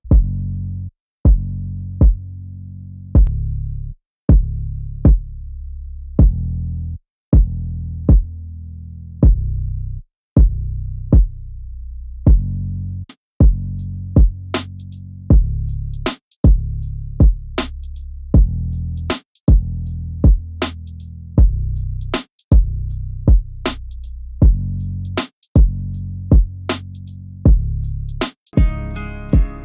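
Heavy, punchy kick drum hits thumping in a steady beat, joined midway by brighter percussion and a fuller mix, with deep saturated low end throughout.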